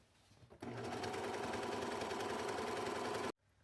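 A sewing machine ruffling sheet fabric for a jacket upcycle runs in one steady, loud, close burst of rapid stitching for about three seconds, then stops abruptly.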